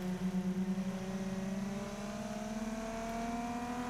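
A V6 Ford Mustang engine revs up toward its horsepower peak above 5,000 RPM. It is loud and close, with a steady harmonic drone rising smoothly in pitch across about four seconds. No one speaks.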